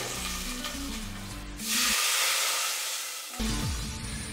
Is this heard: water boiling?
yes